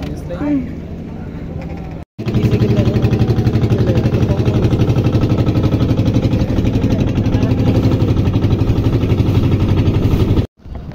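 A loud, steady trawler boat diesel engine drones close by with a rhythmic low chug, briefly cutting out near the start and end.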